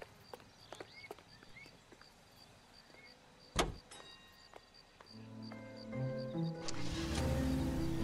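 A Chevrolet sedan in the L.A. Noire video game: a quiet stretch with a sharp door clunk, then the engine starts and runs with a louder mechanical rumble toward the end.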